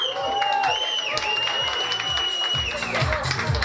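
Audience on the aft deck of the motor ship N. Gogol applauding a contestant at an onboard pageant, with steady dense clapping and cheering, loud and close, music playing underneath.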